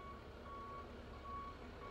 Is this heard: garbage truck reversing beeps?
yes